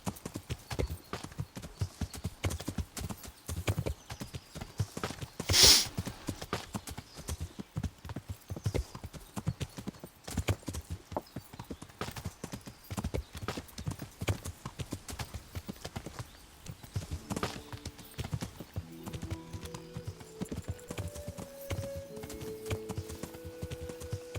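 Horse hooves clip-clop in a steady walking rhythm in the video game Kingdom Come: Deliverance, close and continuous, with a brief neigh and some light talk over it.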